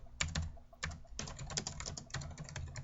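An old calculator with heavy, typewriter-like mechanical keys being pressed in bursts, a rapid clatter of close, loud clicks with short pauses in between.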